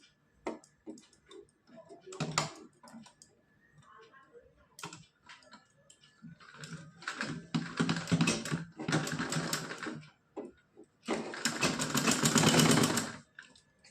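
A sewing machine stitching fabric for a small Laddu Gopal night dress, running in rapid mechanical bursts of stitching separated by short pauses and quieter handling clicks, close and fairly loud.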